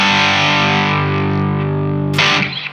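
Electric guitar played through a Walrus Audio Fundamental overdrive pedal at low gain, a sustained warm overdriven chord ringing loud and steady before a fresh strummed attack near the end, with no talking.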